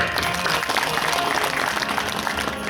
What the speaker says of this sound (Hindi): मैं उसका हृदयपूर्वक स्वागत करता हूँ तालियों से।